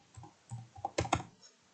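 Keys on a computer keyboard are tapped in a few quick, quiet, irregular clicks, close and alone, with a slightly louder cluster near the end.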